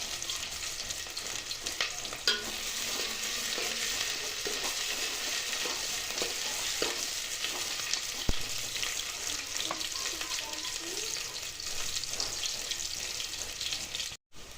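Onion sizzles in a hot pan with whole spices, a steady soft frying hiss with occasional stirring clicks and scrapes, quiet and continuous without speech.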